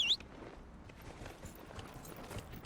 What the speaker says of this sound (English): So let's call my horse.